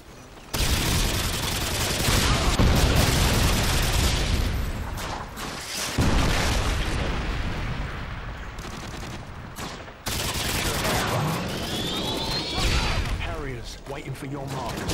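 A nuke missile explosion in Modern Warfare 2 on the Wasteland map, a loud, sustained roar and rumble with repeated heavy booms and crashing debris, and a brief radio-style voice cutting in near the end.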